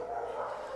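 A guard dog, a lab-type rescue, gives a single short bark or yelp, close and fairly loud.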